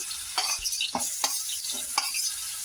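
Mustard seeds, asafoetida and curry leaves fry in hot oil in a pan for vada pav filling, a close, bright sizzle broken by several quick stirring scrapes.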